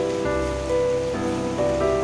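Steady rain falls continuously on a rainy day, a dense even hiss with a faint tonal hum running underneath.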